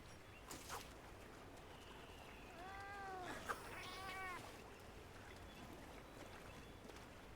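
A cat in the Monster Hunter Wilds video game gives a few faint, wavering meows near the middle, soft over a low in-game ambient background.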